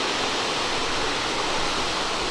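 Secampo Waterfall in northern Bali, a huge waterfall, roars in a steady, dense rush of falling water, loud and constant with no break.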